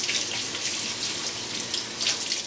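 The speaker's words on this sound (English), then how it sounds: "So wash your stinking hands." A tap runs steadily as hands are washed under it before cooking, a close, continuous splashing hiss with slight shifts in the flow and no talk.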